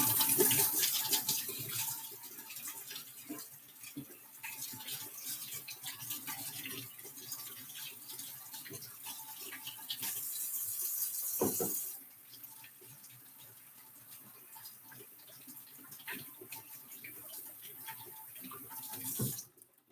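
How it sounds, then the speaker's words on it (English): Tap water runs steadily into a sink while potatoes are rinsed, a continuous faint splashing wash that briefly surges and changes tone midway before settling again. "I always got to rinse the potatoes."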